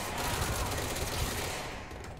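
Dense, rapid automatic gunfire from a weapon in the video game Control, a continuous loud burst lasting a couple of seconds with no talk over it.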